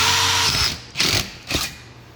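A screw gun drives fine-thread screws into metal stud framing: a loud, close whine that winds down, followed by two short bursts of the driver, each quickly released.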